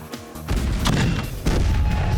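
A cannon fires a ball and chain in a MythBusters jailbreak test, giving a loud booming blast that stays as sustained heavy rumble, with a second strong surge about a second later.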